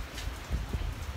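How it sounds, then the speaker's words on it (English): Rain falling outside a bar in Saint Martin, a soft steady hiss of drops with faint patter, quiet and continuous throughout. "And it's raining."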